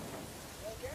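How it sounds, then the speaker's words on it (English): Torrential rain pours down in a steady, dense hiss with a faint rumble beneath, filling the whole brief moment without a break. "it rains in torrents for a month."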